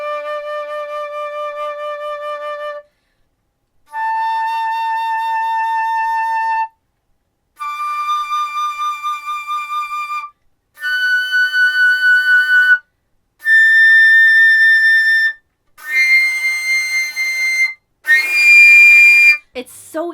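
Jupiter 700 flute playing a series of harmonics: seven sustained pure tones, each held for a couple of seconds with short gaps, stepping progressively higher and brighter, close and loud.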